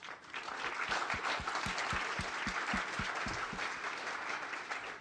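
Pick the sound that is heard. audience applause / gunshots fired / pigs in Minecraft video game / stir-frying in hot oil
audience applause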